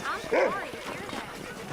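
A dog in the Red Dead Redemption video game gives a brief whining bark near the start, then fades under people talking.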